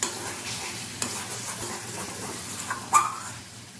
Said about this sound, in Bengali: এখন ভেজে রাখা আলুগুলো মশলার মধ্যে দিয়ে আবারও এটাকে দু তিন মিনিট কষিয়ে নেব